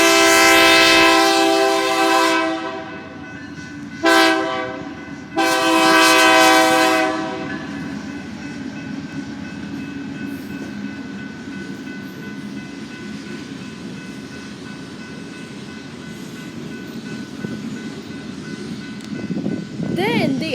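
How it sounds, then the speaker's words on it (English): A very loud horn from a freight train led by CPKC locomotive 44 blasts in long, close bursts with a brief break, then the low rumble and clatter of the passing train continue. "This time it was led by CPKC 44, hence why the horn is so loud."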